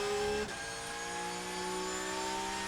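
Porsche 911 GT3 Cup race car at Magny-Cours, a strong engine note that cuts briefly then resumes as a steady, rising whine with clear harmonic layers, moderately loud and continuous.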